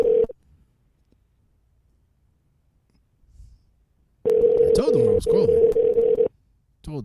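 A telephone gives a brief tone, then after a quiet gap a steady dial tone runs for about two seconds, with dialing beeps over it and someone speaking over the tone and again briefly at the end.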